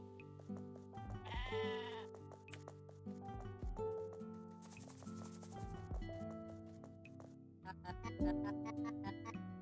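Sheep bleating inside the supermarket video game Discounty, with a run of wavering bleats layered over busy, tonal game music and sound effects, plus a short hissing burst in the middle.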